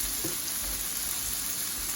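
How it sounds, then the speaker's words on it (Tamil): Steady oil sizzling and crackling of potatoes frying in sesame oil in a pan, continuous and close, with no talking. "இந்த உருளைக்கிழங்கு வந்து நல்லெண்ணெயில் லைட்டாக கொஞ்சம் பொரிஞ்ச மாதிரி வரணும்"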